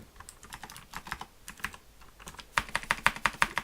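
Code being typed on a computer keyboard: a quick run of light, irregular key clicks that grows louder and crisper near the end, with no talking.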